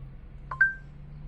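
Two short electronic dialing tones from a Skoda Fabia's infotainment system as it places a phone call home, a quick pair of beeps with the second ringing on briefly, over a low steady cabin hum.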